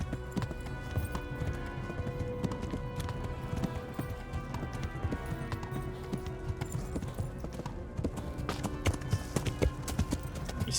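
Video game hooves clatter in a fast, continuous gallop, several horses at once on a road, busy and fairly loud with a dense rumbling background.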